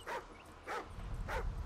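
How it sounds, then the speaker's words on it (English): Riley, a dog in the Call of Duty: Ghosts video game, lets out three short, evenly spaced whining yips, fairly close and fairly quiet, with no voices over them. "What is this dog up to?"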